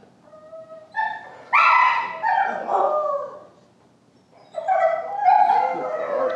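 A golden retriever whimpers in high, thin whines, then breaks into several close, clear barks and yips, pauses briefly, and finishes with another run of whining barks.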